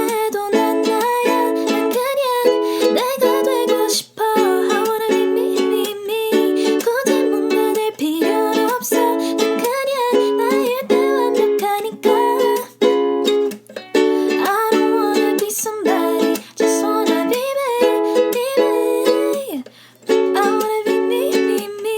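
Ukulele strumming the chords of a song's chorus together with its melody, a steady rhythmic strum with bright plucked tune notes continuing throughout at an even, fairly loud level.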